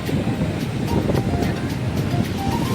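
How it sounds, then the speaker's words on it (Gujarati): Sea waves wash and roar close by in a steady churning surge, with wind buffeting throughout. "જોઈ શકો છો પેલા મોજા મારે છે"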